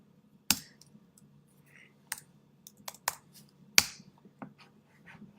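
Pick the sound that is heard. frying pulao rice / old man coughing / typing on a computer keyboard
typing on a computer keyboard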